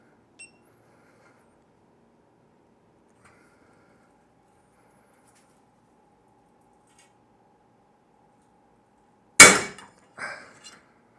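A VIM Tools ratcheting wrench snaps under heavy torque on a test setup, giving one sudden loud metallic crack after long near-silence, followed by a couple of small rattling clinks from falling pieces.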